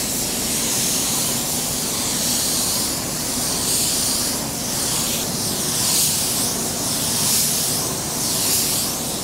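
Eastwood Elite Series paint spray gun spraying a car bumper, a steady, loud, close hiss of atomized paint with gentle swells as the gun sweeps back and forth; no talking.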